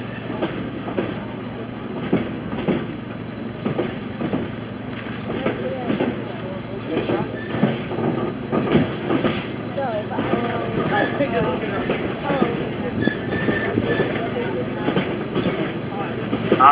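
Cumbres & Toltec narrow-gauge train running from Osier to Sublette, a continuous rhythmic clatter and rumble of wheels close by, with people talking over it.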